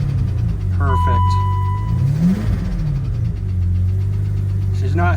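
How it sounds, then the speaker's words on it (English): BMW 850i with the M70 V12 engine running after reassembly, a steady idle with a rising and falling rev as the throttle is blipped, close and loud, while someone talks over it. "There we go. She's running. See how her throttle response is."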